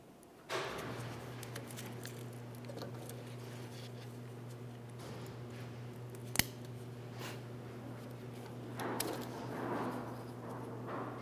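Plastic reverse light bulb socket on a 2005-2010 Dodge Dakota being pried apart, heard as scraping clicks with one sharp snap midway, over a steady low hum, ending in rustling handling noises.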